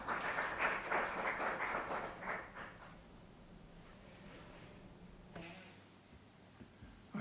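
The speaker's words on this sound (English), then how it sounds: "I don't know why you're clapping." An audience at a jewellery technology forum claps steadily for a few seconds, the applause fading out to a quiet hall with some faint room noise and a small bump near the end.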